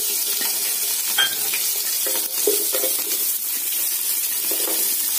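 Mustard seeds and urad dal frying in hot oil for a fish curry tempering, a steady close hiss with stirring scrapes and small pops throughout, no voices.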